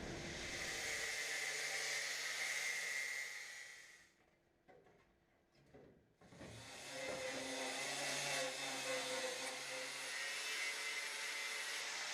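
A power grinder runs close and loud, grinding down a welded-in metal body panel on an Audi Sport Quattro chassis during restoration. It cuts briefly around the middle, then spins back up and continues with a steady whine.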